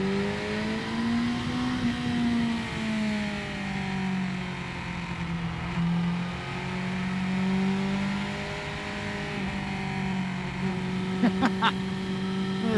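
A 2018 Yamaha R6 sport motorcycle with a quick shifter runs steadily under way. Its engine note rises and falls through gear changes, with wind noise and a few sharp clicks near the end.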